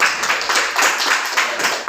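A classroom of students claps together for a classmate in a steady, dense patter of many hands that holds for about two seconds without talk.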